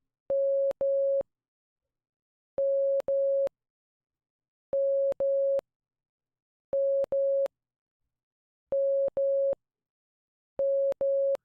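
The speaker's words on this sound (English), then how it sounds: "Now M is da da." Morse code letter M sent as a clean electronic tone in pairs of two long dashes, repeated six times with even pauses between each pair, loud and alone.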